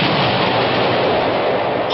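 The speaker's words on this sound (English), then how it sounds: "It's the riverboat, firing its cannons to try to raise us up." Cartoon cannon fire from a riverboat's big guns: a dense, continuous booming roar filling the whole span, loud and unbroken with no voices.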